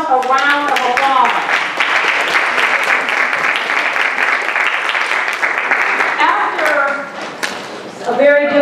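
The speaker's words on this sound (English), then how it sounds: "Give yourselves a round of applause." Audience applause at an indoor morning community event, a dense, steady wash of clapping running most of the clip, with talking voices heard at the start and returning near the end.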